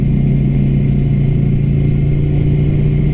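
A Ducati Scrambler Flat Track motorcycle engine runs under throttle, a loud, close, steady buzzing hum that holds an even pitch throughout.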